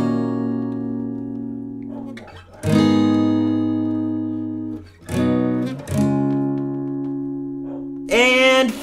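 An acoustic guitar plays the outro of a song: a few strummed chords ring out and sustain, each fading before the next strike, with a final bright strum near the end and no voices.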